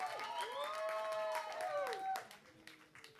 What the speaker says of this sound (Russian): Давайте встретим ребят. Бравыми аплодисментами, друзья.